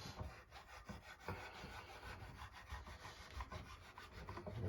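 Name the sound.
sanding guitar with 400 grit sandpaper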